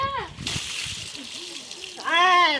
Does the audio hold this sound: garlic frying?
no